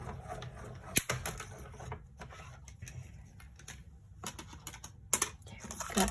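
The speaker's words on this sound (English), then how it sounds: "so we're going to run this through Stampin' Cut Mini" Paper sheet being cranked through a Stampin' Cut Mini die-cutting machine, giving a close, steady rasping and clicking with brief sharp knocks and pauses.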